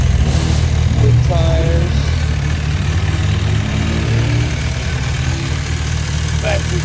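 MV Agusta 1090RR Brutale motorcycle on its stock exhaust, idling steadily with a low, even rumble close by throughout, while someone talks over it.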